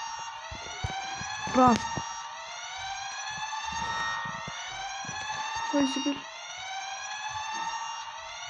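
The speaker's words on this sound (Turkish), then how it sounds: "Yani təkcə alarm sesli canavarları bizi qovalıyor." Warbling siren-like alarm wails continuously from the monsters chasing the player in a Backrooms video game, loud and steady throughout, with a voice speaking briefly over it.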